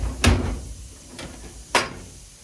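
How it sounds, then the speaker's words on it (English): Enclosure door of a CNC machine sliding and thumping shut, two distinct knocks about a second and a half apart with a faint rattle between, close and moderately loud in a quiet shop. "Close the door"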